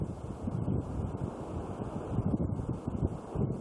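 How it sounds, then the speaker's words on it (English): Steady, strong hurricane wind roars and buffets the microphone with a dense low rumble, continuous throughout with gusty surges. "Very windy."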